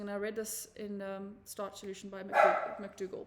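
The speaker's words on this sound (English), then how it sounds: "Excuse the dogs barking and everything." Dogs bark several times in the background while someone talks over them, the barks short and mid-distance, partly masked by her voice.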